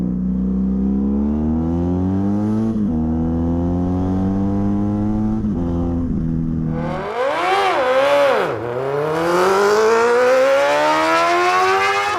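Engine of a BMW F800GS motorcycle riding through traffic, a loud steady drone with gear changes, then sharp rising and falling revs as it accelerates hard, no talking over it.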